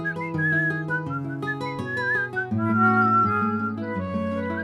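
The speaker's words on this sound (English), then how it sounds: "As soon as the babies heard the whistling, they knew who their real mother was" A melodic whistle runs over a soft musical backing, with several short phrases of bright, wavering tones at moderate volume.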